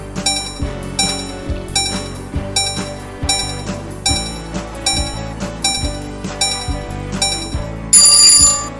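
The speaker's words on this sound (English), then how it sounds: "If you hear a bell, it means your time is up." A bell-like electronic ring signals that time is up during a children's English lesson on a school radio broadcast. It rings loud and alone in steady repeated pulses, with a brighter burst near the end.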